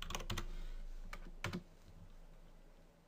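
A password is typed on a computer keyboard at login: a short burst of quick keystrokes, then a few spaced taps, close and fairly quiet.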